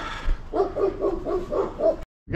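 A dog barks in a quick run of about six close, loud woofs over roughly a second and a half, then the sound cuts out.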